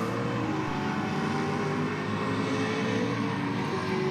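Ford Falcon drag car launching hard off the start line at a drag strip, a loud, steady engine roar held at high revs for the whole stretch, with no voices over it.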